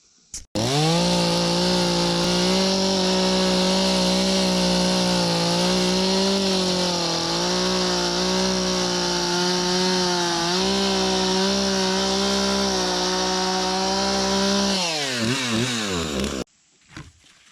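A chainsaw carves a log for an arched timber bridge in the woods, roaring loud and steady close by for about fifteen seconds, then revving down and cutting out.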